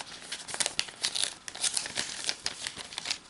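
A thin plastic sachet of the kind used for card packaging crinkles and rustles continuously at close range, with quick crackling bursts throughout.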